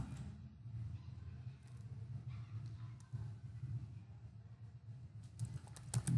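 Someone typing on a computer keyboard gives faint, scattered keystrokes in a quiet room before a quicker little burst of clicks near the end.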